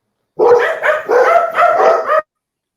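Dogs bark in a quick burst of about four or five sharp, close, loud yaps, then fall silent.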